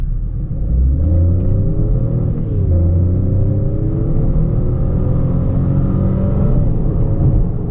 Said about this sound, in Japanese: スポーツモードにしてですね、床まで踏んでみたいと思います。